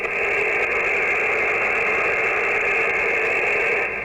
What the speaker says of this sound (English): nothing but normal atmospheric background noise